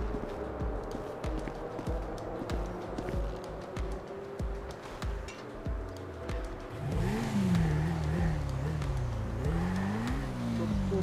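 A motorcycle engine in GTA V revs and rises in pitch in two swelling pushes during the second half, over a continuous rumbling background of game traffic and noise.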